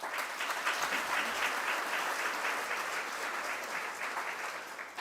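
A congregation applauds during a church ceremony, with moderately quiet, even clapping sustained for around five seconds and no speech over it.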